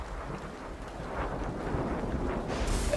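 Stormy weather in a Metal Gear Solid 4 cutscene: a quiet, continuous rumble of wind and rain with a low thunder-like roll building slightly, no voices.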